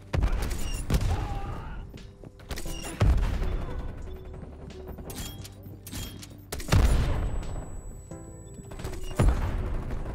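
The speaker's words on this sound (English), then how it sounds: "War machine prepping fire." Heavy repeated grenade-launcher blasts from the War Machine in Call of Duty Cold War, four or five booming impacts spaced a couple of seconds apart over continuous gunfire and game clatter.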